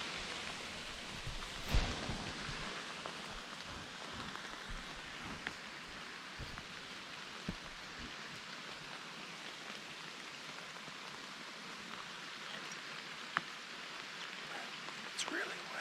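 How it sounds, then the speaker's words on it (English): Steady rain falls through the Vermont woods during archery season, a soft continuous patter with occasional closer drops and faint rustles, nearby and unbroken throughout. "This rain, I hope it stops soon."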